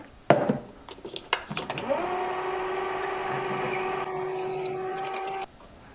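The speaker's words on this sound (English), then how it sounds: "Number 5 drill, a little cutting fluid on this one to make it really nice." A number 5 drill bit bores about three-quarters of an inch into a workpiece with cutting fluid, a steady whining drone with a few sharp knocks at the start and a clean stop near the end, close and alone.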